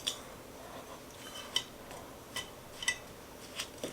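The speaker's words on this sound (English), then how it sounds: "In a large bowl, we're going to beat 3 tablespoons of softened butter and 3/4 of a cup of packed brown sugar." Softened butter and packed brown sugar beaten by hand in a large bowl, producing light, irregular clinks and scrapes of the utensil against the bowl over a faint background hiss.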